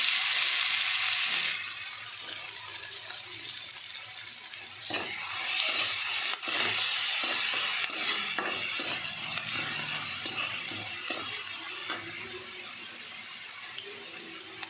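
Green chilies go into hot oil already crackling with cumin and mustard seeds, a loud hissing sizzle at first that settles into softer frying with occasional stirring clinks.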